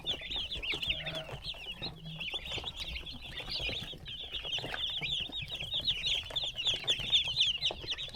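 Many young chickens cluck and peep steadily inside a brooder box on a farm, a dense, continuous chorus of chirps close by with faint rustling underneath.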